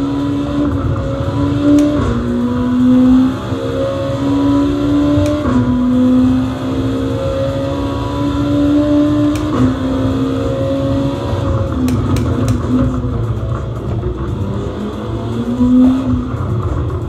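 A car engine in a racing video game roars through a Sound Blaster Katana V2 soundbar, revving up and down through gear changes loudly and continuously.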